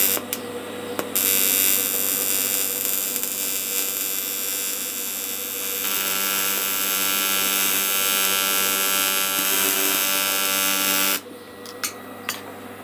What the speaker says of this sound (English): There's only one way to find out if it's going to weld, and that's to have a go at welding it.